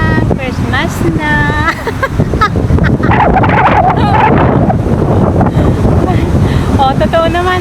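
Wind gusts through a park and buffet the microphone with a constant, loud, rumbling roar, while a voice speaks briefly at the start.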